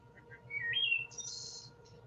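A thrush sings a brief phrase: a few soft notes, then a clear fluting whistle rising into a high, shimmering trill, heard alone and fairly close.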